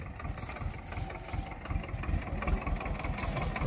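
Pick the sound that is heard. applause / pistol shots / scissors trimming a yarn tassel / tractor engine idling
tractor engine idling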